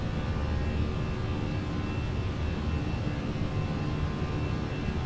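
Airbus A319 jet engines roar at high thrust during a go-around in Microsoft Flight Simulator, a steady, loud, broadband rumble that holds evenly throughout without breaks.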